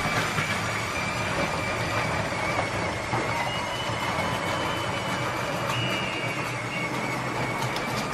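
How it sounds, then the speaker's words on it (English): A LEGO Crocodile Locomotive 10277 driven by a Powered Up motor runs along plastic track with a steady, loud mechanical whir and rattling wheel clatter that continues without break. "It's a pretty noisy motor,"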